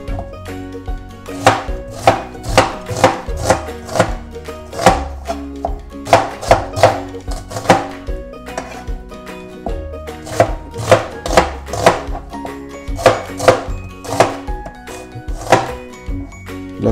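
Rapid knife chopping of an onion on a cutting board, close and crisp, in quick bursts of rhythmic thuds separated by short pauses, with soft music underneath.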